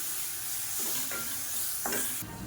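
Ground masala paste for an eggplant gravy sautéed in a pan, giving a quiet, steady sizzle with a few soft scrapes of stirring.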